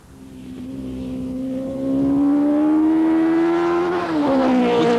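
The Lightweight Car Company Rocket's high-revving engine rises steadily in pitch as it accelerates on track, a loud sustained whine that briefly dips near the end as the gear changes, then climbs again.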